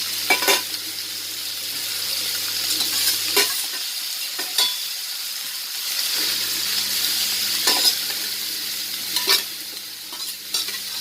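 Nethili dry fish frying in hot coconut oil, a steady close sizzle with crackling pops and occasional stirring scrapes, alone without any voices.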